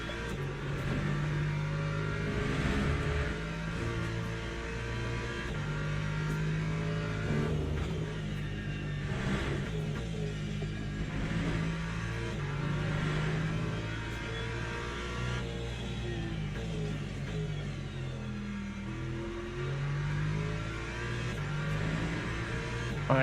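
LMP2 prototype race cars roar continuously in the Le Mans Ultimate racing game, a steady loud engine drone with shifting revs and harmonics over the whole stretch.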